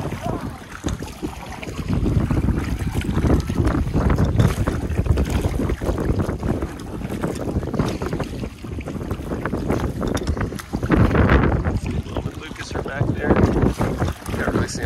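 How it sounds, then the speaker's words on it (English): Canoe paddled hard across ocean water toward the Kaneohe sandbar off Oahu, Hawaii, with repeated splashing strokes and water rush under strong wind buffeting, and a voice talks intermittently. "he's paddling hard"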